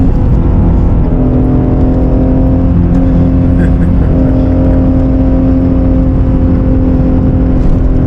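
Loud, steady engine roar from a 2018 Ford Mustang Shelby GT350's 5.2-liter flat-plane-crank V8, a deep rumbling drone held at a high, constant pitch throughout, with a faint voice under it.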